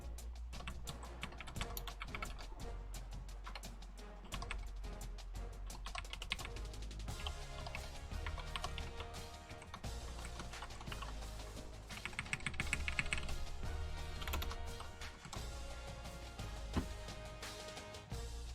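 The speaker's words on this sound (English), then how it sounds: "All right, time to start typing," Rapid clattering of a computer keyboard, fast continuous typing with dense key clicks over a steady low background hum.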